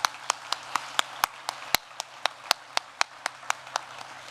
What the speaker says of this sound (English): So can we just give her a round of applause?